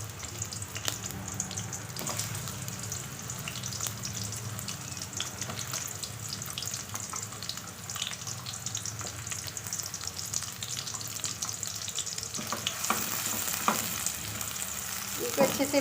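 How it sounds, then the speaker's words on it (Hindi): Onions fry in half a cup of oil, a steady close crackling sizzle that holds for the whole stretch and grows slightly brighter toward the end, without any voices. "हाफ़ कप हमने ऑयल लिया है, इसमें जो हम अनियन डाल देते हैं।"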